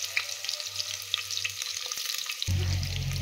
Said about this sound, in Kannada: ಆಯಿಲ್ ಬಿಸಿ ಇದೆ. ಇವಾಗ ನಾನು ಈರುಳ್ಳಿ ಹಾಕ್ಕೊಳ್ತಾ ಇದ್ದೀನಿ.